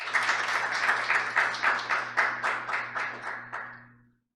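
An audience at an opening ceremony for an industrial health society anniversary conference claps in sustained applause that fades out over about four seconds.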